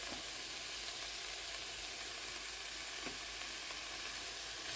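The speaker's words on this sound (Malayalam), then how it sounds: "ഇനി ഇത് നമുക്ക് നന്നായിട്ടൊന്ന് കുക്ക് ചെയ്തെടുക്കാം ഈ ഒനിയനൊക്കെ" Onions frying in a pan with salt, turmeric and pepper over a medium-to-high flame give a steady, even sizzle that runs unbroken throughout, with no voices.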